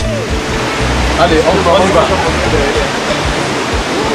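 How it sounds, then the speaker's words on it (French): Waterfalls heard from below, a dense, continuous rushing roar close by, with someone speaking briefly over it. "Nous sommes encore plus proches des cascades avec une vue plus rapprochée."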